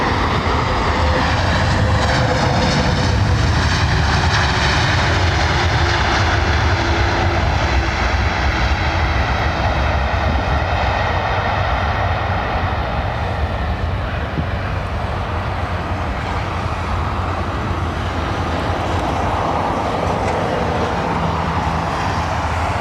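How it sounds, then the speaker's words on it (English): An Air Canada jet in Star Alliance livery arriving from Calgary at London Heathrow, a loud steady roar of jet engines with a slowly shifting whine, close and continuous without talk. "Air Canada 333 from Calgary inbound."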